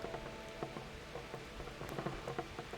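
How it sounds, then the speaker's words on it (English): Steady rain patters across the ground in the medieval open world of Kingdom Come: Deliverance, a soft continuous drizzle with scattered drop taps, no talking over it. "It's constantly raining."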